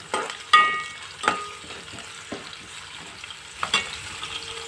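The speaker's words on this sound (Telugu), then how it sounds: "చూసారు కదా ఎట్లా ఫ్రై అవుతున్నాయో." Bitter gourd, onion and green chillies frying in a pan, a soft steady sizzle broken by a few sharp scraping and knocking strokes of a stirring utensil, close and fairly quiet.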